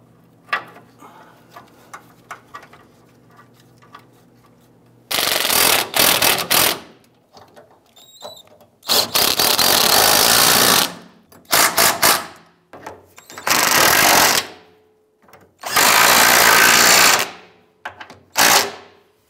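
Power tool drives and tightens the four fuel pump module bolts on a 1995-2001 Ford Explorer. Several loud ratcheting bursts of one to two seconds each are separated by quiet pauses, close by, with no talk.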